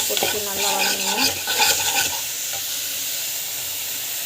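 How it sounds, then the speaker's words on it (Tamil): Food sautéing with salt in a pan gives a constant hissing sizzle, with stirring scrapes and clatters in the first half before the sizzle settles into an even hiss. "உப்பு போட்டுட்டு நல்லா வதங்கணும்."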